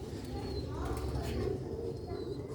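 Pet pigeons coo in soft, low repeated calls close by, set against a steady background murmur with a faint voice mixed in.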